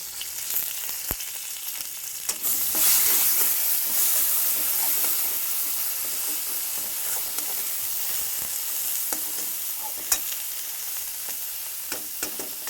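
Okra frying in a pan with salt, turmeric and chili paste, giving a steady close sizzle with occasional sharp crackles and stirring clicks, no voices.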